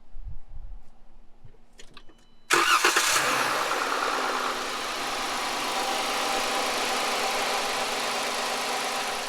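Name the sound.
van engine starting and running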